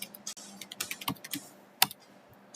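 Scattered, light clicks on a computer keyboard while code is entered, soft and close, with irregular gaps and one sharper tap standing out.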